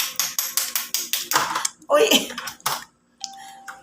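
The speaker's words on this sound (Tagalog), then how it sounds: "pinupukpok nila yung kagat ng alimango" Cooked crab claws are pounded open at a family crab-and-lobster meal: a quick run of sharp, evenly spaced knocks, followed by a few heavier strikes mixed with voices and table clatter.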